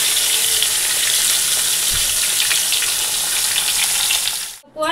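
Squash frying in mustard oil in a pan, a loud, steady close-up sizzle that runs continuously before cutting off abruptly at the end.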